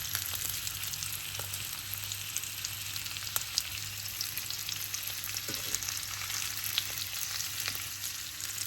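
Lamb shanks sear in a frying pan, producing a steady, fairly quiet sizzle that holds evenly throughout, with a few faint crackles and no voices.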